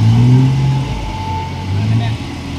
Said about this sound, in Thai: รถขุดคูโบต้า KX91-3